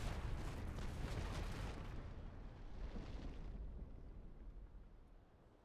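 Naval cannon broadsides from sailing warships in the naval combat game Naval Action, a heavy rolling wall of booms that starts loud and then fades into a long rumbling decay.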